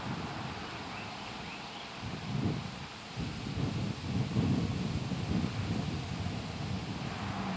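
Wind buffets a camera microphone covered with a towel, making a muffled low rumble that swells and gusts louder partway through and then holds steady.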